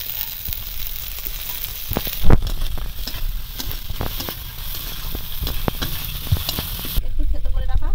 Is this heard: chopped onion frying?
yes